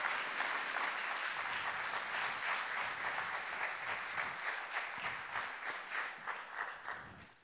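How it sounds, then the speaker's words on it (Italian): An audience applauds the staff of a family counselling centre in Vittorio Veneto at an anniversary meeting. The clapping is a steady, continuous wash of many hands that holds evenly, then tapers off at the end. "potremmo iniziare con un applauso ai consulenti e alle consulenti del consultorio familiare di Vittorio Veneto"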